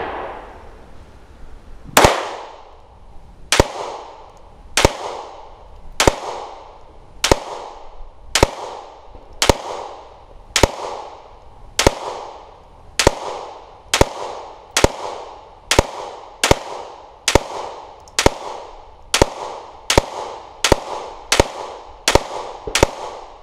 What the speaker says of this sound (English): Third series Polymer 80, 31 rounds. We'll do a controlled cadence and we'll pick up the pace.